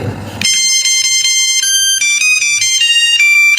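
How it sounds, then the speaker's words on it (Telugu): A loud electronic phone ringtone plays a bright repeating melody of tones, starting abruptly after a brief noisy moment and continuing steadily. "మా ఫోన్ వచ్చింది, తీసుకో"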